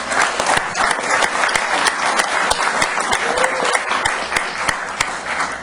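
Loud, dense applause from a crowd in city council chambers honoring a youth All-Star baseball team, steady and close throughout, with individual sharp claps popping out of the continuous wash.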